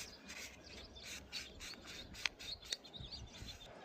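A rag wipes oil off the drain plug and rubber gasket of a 2018 Ford Flex, giving a soft, close rubbing and scraping texture, with a couple of sharp little clicks partway through.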